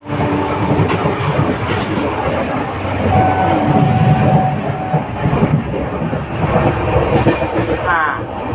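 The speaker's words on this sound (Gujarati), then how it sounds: "ખરેખર ટ્રેનની મુસાફરી એટલે ભારે મજા આવે એવી જ હોય છે." Train running on the rails in Gujarat, India, heard from inside a carriage as a steady low rumble with rattling and faint clatter, one brief thin squeal midway, carrying through the whole stretch with no voices.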